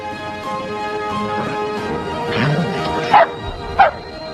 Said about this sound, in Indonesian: seekor anjing terus menggonggong seakan mendengar suatu pergerakan yang akan terjadi